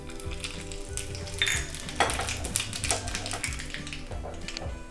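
Mustard and cumin seeds crackle and sizzle in hot coconut oil in a pan, a busy close-up stream of pops and spits with no talking.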